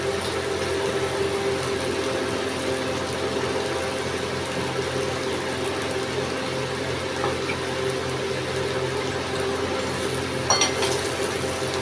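Ivy gourd roasts and fries in a pan with a steady, even sizzle that holds close and constant throughout, with a faint clink of utensils near the end.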